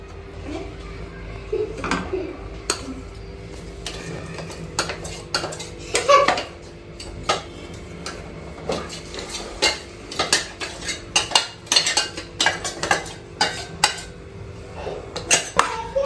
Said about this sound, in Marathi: आता छान असं आपण बारीक गॅसवरती मिक्स करून घेऊया